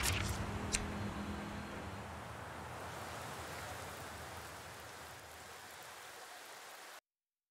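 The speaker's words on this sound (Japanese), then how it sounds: "雨が降ってやがるな" Rain falling in the video game Atelier Firis, a steady, soft hiss of downpour that gradually fades before cutting off abruptly.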